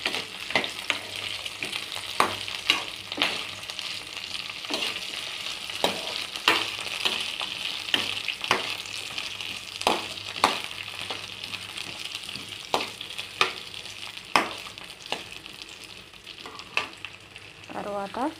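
Okra pieces frying and being stirred in a pan for a vegetable chutney, a steady bright sizzle with regular sharp scrapes and taps of the spoon against the pan at a close distance.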